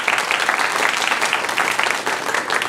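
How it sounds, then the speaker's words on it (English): An audience at a school beginner band and orchestra concert applauds: dense, steady clapping from many hands that fills the hall throughout, with no talk over it. "Give them a round of applause."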